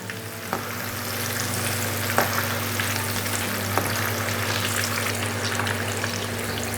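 Dried red chillies and curry leaves frying in hot oil for a potato mixture snack, a steady close crackling sizzle with a few sharp pops, no voices.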